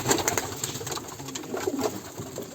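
Pigeons in a loft give soft, low cooing calls that repeat close by against a noisy background, with no talking.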